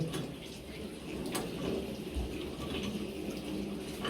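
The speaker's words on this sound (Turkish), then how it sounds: "Suyumuz şarıl şarıl akıyor." Water pours steadily from a newly installed mixer faucet in a home, a continuous close splashing hiss that runs evenly with no talk over it.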